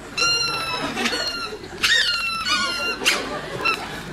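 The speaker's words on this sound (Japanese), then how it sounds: "なんかスリッパがプープーなんですけど" Squeaky slippers and a cat at a cat café: several bright, high squeaky chirps in short bursts, loud and close, with a faint voice murmuring underneath.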